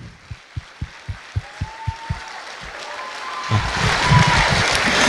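Audience applause at an FFA convention starts with a few distinct, evenly spaced claps, then swells into a dense, continuous round of clapping from the whole crowd in a large hall.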